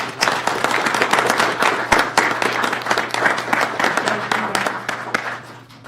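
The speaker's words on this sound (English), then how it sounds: "Round of applause for those veterans" Audience at a county board meeting applauds veterans with sustained, dense clapping lasting several seconds before tapering off at the end.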